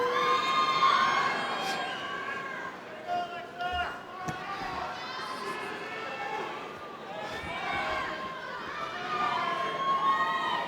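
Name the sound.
graduation ceremony crowd cheering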